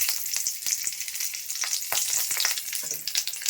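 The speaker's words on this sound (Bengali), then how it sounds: "এখন ওই তেলেই একটু ফোড়ন দিব একটা কাঁচা লঙ্কা আর সামান্য পরিমাণে কালো জিরা" Green chili and nigella seeds crackle and sizzle in hot oil left from frying eggplant, a dense, steady hiss with scattered sharp pops throughout, close and fairly loud with no voices.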